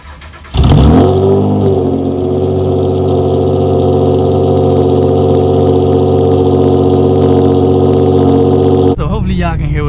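A Honda Accord Coupe V6 with a manifold spacer installed drives along a forest road. A loud, steady engine drone holds close and even from start to finish after a sharp rise at the beginning.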